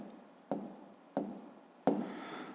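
Pen strokes mark numbers on paper during a fifth-grade maths exercise: three distinct scratchy bursts, each starting sharply and trailing off, close and quiet with no talking.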